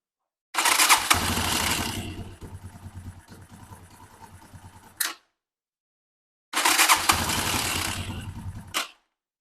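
A Viper V250VXR motorcycle with a 169FMM engine is revved up in two loud, close bursts separated by a short silence. Each burst starts with a sharp rise and settles into an uneven idle before cutting off.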